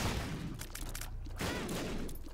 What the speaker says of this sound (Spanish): Lágrimas de explosiones.